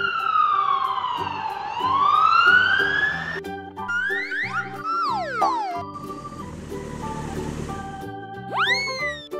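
Black toy police car siren: a loud, swooping electronic wail that dips and climbs, then quick descending zaps, a hissing burst and a final rising whoop, all over a light synthetic tune with no speech.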